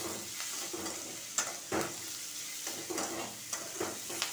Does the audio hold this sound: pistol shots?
no